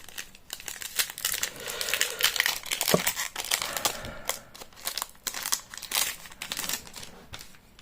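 Plastic foil wrapper of a Magic: The Gathering Jumpstart Foundations booster pack being torn open and handled, with close, continuous crinkling and crackling bursts.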